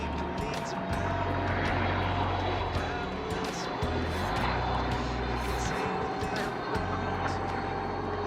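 A helicopter carrying passengers on an African trip, its engine and rotor drone steady and loud with a low pulsing throb, mixed with faint background voices.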